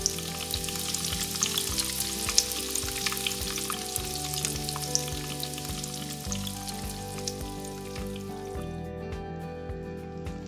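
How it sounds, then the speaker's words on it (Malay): Salmon sizzles and crackles steadily in hot oil, skin side down, a continuous frying hiss with scattered pops and spatters, close up and alone. "Bila minyak sudah panas, goreng ikan salmon."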